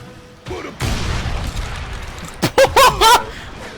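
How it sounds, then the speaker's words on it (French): Dynamite explodes in the Western shooter game Call of Juarez Gunslinger: a loud deep boom bursts out and rumbles on, followed by a few short, sharp voiced shouts near the end. "Explosion!"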